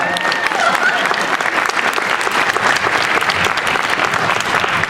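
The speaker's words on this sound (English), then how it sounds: "This is where you clap." Steady, loud applause fills the room from the audience at a 2019 cosplay contest, continuous clapping throughout with no pauses.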